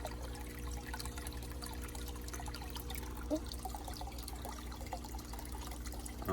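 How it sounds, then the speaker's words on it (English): Water is poured into a container in an outdoor guppy pond setup, a faint steady trickle and splash under a low background hum, with no talk. "Let me add some more water."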